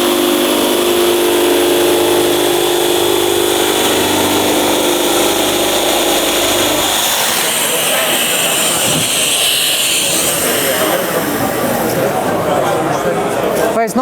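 A Festool ISC240 insulation saw runs with a loud, steady motor whine close up, and its tone changes partway through as it works into thin insulation board.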